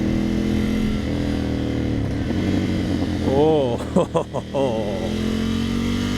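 A 2020 Ducati Scrambler 1100 motorcycle engine drones steadily up close, then gives a few sharp revving blips that rise and fall quickly before settling back to its rumble, with a brief exclamation from a voice.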